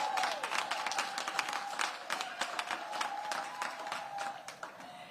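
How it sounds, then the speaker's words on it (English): At a back-to-school event at a DC public school, a modest crowd applauds teachers with a fairly quiet, somewhat distant patter of claps, a few sharp individual claps standing out. "Give them a big round of applause."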